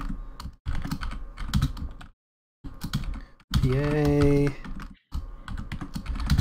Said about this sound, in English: You're all gonna have to deal with me typing.